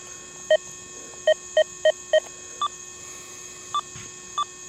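An XP Deus 2 metal detector with an HF2 coil holds a steady, faint threshold hum at maximum setting. Sharp electronic beeps break in several times, a quick cluster first and then a few higher, more spaced ones.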